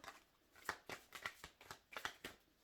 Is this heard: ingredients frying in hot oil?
no